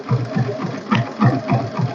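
A car engine idles steadily nearby with a rhythmic low chug and mid-range rattle; the car is a 2012 model fitted with a new battery, and the engine is in good condition.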